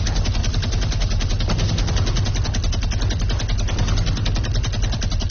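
Sustained rapid gunfire from a video game, loud and continuous automatic bursts filling the whole stretch without pause.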